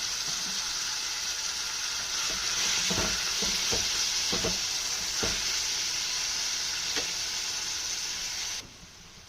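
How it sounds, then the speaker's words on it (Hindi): Tomatoes frying in hot oil over a low flame for green tomato chutney, giving a steady close sizzle with a few scattered clicks and stirring scrapes, no voices. "उसके बाद हम इसमें टमाटर डाल रहे हैं।"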